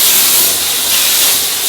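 Loud, steady steam hiss from a steamer used on a quilt on a longarm quilting machine, a continuous close spray sound with slight swells and no voices.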